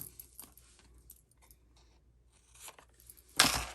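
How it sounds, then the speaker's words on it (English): Quiet scattered snips and rustles of scissors cutting paper, ending in a louder crisp snip and crinkle. "Get our scissors and trim off the extra."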